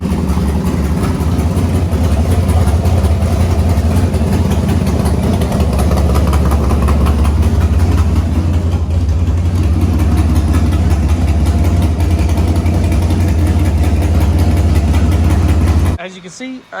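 A car engine runs at a loud, steady idle close by, a constant low rumble that holds almost unchanged for about sixteen seconds before it cuts off abruptly.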